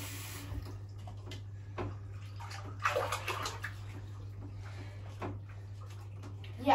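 Dirty tennis ball scrubbed in water, splashing and sloshing bursts over a low steady hum, close and intermittent, with no clear talk.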